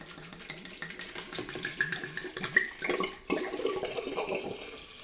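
A full bottle of Pinot Grigio glugs steadily into a container for sangria with apples, a close, continuous splashing pour with bubbling gurgles running the whole time and a brief dip midway; no one speaks.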